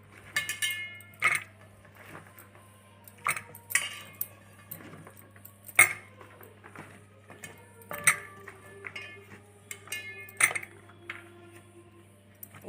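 A spoon clinks and scrapes against a metal pot while tamarind juice, salt, turmeric, chili powder and sambar powder are stirred into boiled dal, with sharp isolated knocks every couple of seconds over a low steady hum.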